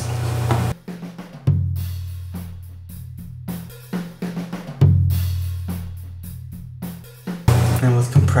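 A drum kit processed with EQ in Logic Pro plays alone, with punchy kick and snare hits in a steady groove, a loud low thump opening each phrase and bright cymbal wash above.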